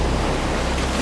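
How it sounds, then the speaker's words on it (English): Ocean waves from the video game Uncharted wash and roar steadily and loudly, a broad continuous surf with wind noise across the short stretch. "Sounds like waves."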